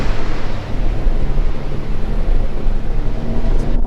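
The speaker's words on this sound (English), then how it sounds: "You hear those engines howling away out the back now" Engines of a 650hp police RIB at around 30 knots, a loud continuous roar of motors with rushing wind and water churning over the whole stretch, no pauses or breaks.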